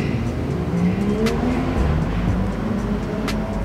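A Ford Mustang goes by, a loud close engine note with pitch that climbs and shifts as it passes, a short sharp hiss near the middle, no voices.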